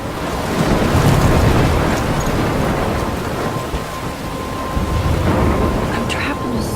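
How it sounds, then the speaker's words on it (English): A roaring storm in the video game Life Is Strange, with heavy wind and crashing waves forming a loud, continuous wash of noise that swells and eases over several seconds. "I'm trapped in a storm?"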